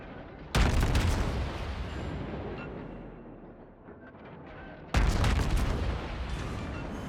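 Two heavy naval HE shell salvos fire in the World of Warships video game, each a loud booming blast with a long rumbling decay, the second coming about four seconds after the first.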